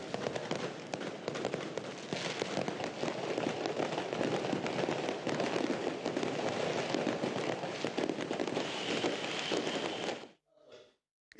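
Fireworks closing a military ceremony crackle and pop in a dense, continuous barrage for about ten seconds, fairly distant and steady, before cutting off into near silence.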